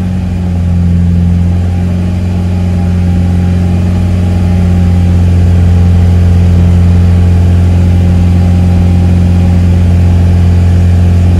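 A Toyota GT86 engine held at raised revs during an emissions check, a loud, steady droning hum with strong low harmonics that swells slightly and stays constant, close to the car, with no talk.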